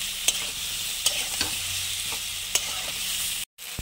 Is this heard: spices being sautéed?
yes